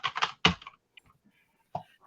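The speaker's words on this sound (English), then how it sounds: "Got a loud keyboard now." Clacky presses on a loud computer keyboard: a short cluster of sharp, close key clicks, a pause, then a few more isolated taps.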